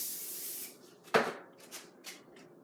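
A short hiss of cooking oil spray onto pizza dough fades out, followed by a sharp clack of a lid and a few soft handling knocks.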